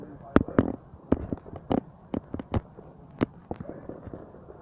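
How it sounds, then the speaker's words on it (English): Fireworks go off on bonfire night in the UK, about a dozen sharp cracks and bangs at irregular intervals from a middle distance, with quiet talk between them. "Where have they all gone, all these fireworks?"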